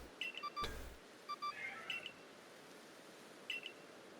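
Short electronic beeps and chirps from the Arc phone in the video game Pokémon Legends: Arceus, sounding in quick pairs and clusters with brief pauses, fairly quiet and without talk.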